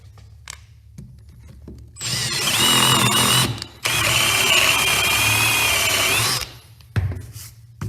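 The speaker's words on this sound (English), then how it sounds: "you drill your hole like this" Power drill boring a hole in wood, its bit steadied by a guide, whining loud and close in two sustained bursts of about two and four seconds with a brief pause between, faint handling clicks before and after.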